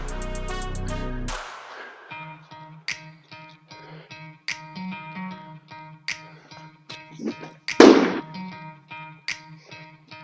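Baseballs thrown during training strike a target in a series of sharp, isolated smacks at irregular intervals, some close and loud, others softer, with quiet gaps between impacts.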